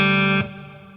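A distorted electric guitar chord rings out loudly with reverb, then cuts off sharply, leaving a short fading reverb tail.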